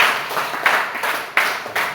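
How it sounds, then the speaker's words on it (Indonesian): Classroom of students clapping hands together, several bursts of applause in a close room, the claps rising and fading in uneven waves. "Oke, mari kita beri tepuk tangan yang betul."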